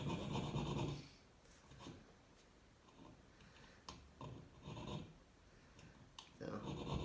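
A file cuts a chased rope pattern into a steel knife blade in short scraping strokes with pauses between them, quiet and close, with a voice speaking at the start and end.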